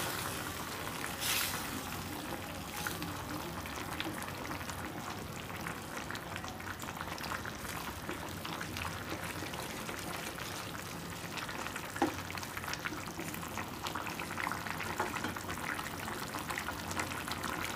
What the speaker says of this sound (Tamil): இப்போ பாருங்கள் சென்டர்லேயும் சேர்த்து கொதிக்க ஆரம்பிக்கும் குழம்பு